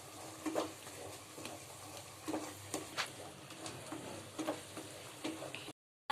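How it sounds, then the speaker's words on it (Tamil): Spiced masala for channa kurma being stirred and sautéed in oil in a pan, a soft steady sizzle broken by a few light scraping strokes of the spoon, quiet and close, with no talking. "வதக்கியாச்சு. இப்போ எண்ணெய் பிரிஞ்சு வருது."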